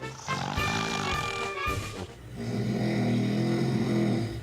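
A man snores in deep, rasping snores that rise and fall in two long breaths, loud and close, with no talking.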